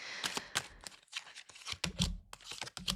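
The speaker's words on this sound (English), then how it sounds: "let me shuffle one more time" A deck of tarot cards being shuffled up close, giving quick crisp riffling and snapping bursts separated by brief pauses, with no voices.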